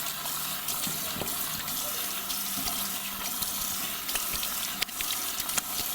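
Tap water runs steadily from a faucet to wet a boar-bristle shaving brush, a continuous close splashing hiss with small clatters, with no talking.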